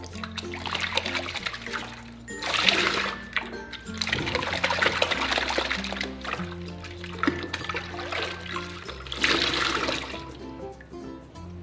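Water runs steadily over hair extensions being rinsed at a salon sink, giving a continuous close splashing and trickling with shifting surges and no talking.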